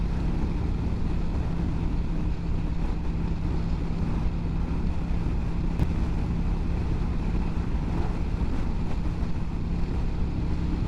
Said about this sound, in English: It's been windy out here in Northern California.